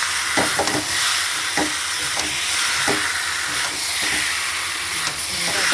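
Water poured into a hot cooking pan of salted food gives a steady, loud steaming hiss and sizzle throughout, with faint stirring clinks and scrapes now and then.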